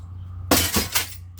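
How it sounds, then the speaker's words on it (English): A pane of glass is smashed with a heavy object, giving a sharp, loud shatter followed by two or three quick crashing bursts of falling shards, close by and with no speech. "Some of this glass is pretty hard to break at times."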